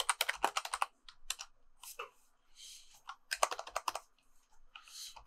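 Bursts of computer keyboard typing with quick irregular clicks, close and clear, pausing briefly between runs while someone enters a text node in Unreal Engine 5.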